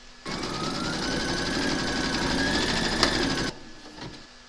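Embroidery machine stitching a placement outline in brown thread, a loud, close, steady mechanical whirr with rapid needle rhythm running about three seconds, then stopping abruptly into a quieter hum.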